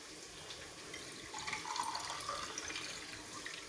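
Water pours steadily into measuring glasses for a chicken mandi in a home kitchen, a faint continuous splashing stream that swells slightly midway, with no talking.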